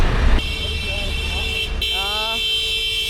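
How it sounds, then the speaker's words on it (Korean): Car horns honking in busy New York traffic, several short toots and a longer blare over street noise, with a voice talking in the background. "왜 이렇게 빵빵하는 거죠?"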